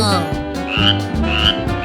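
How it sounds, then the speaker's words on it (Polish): A frog croaks in repeated loud, raspy pulses close by, roughly three bursts across two seconds, set in a playful teen challenge scene with no talk over it. "To twoja żaba, zabieraj ją."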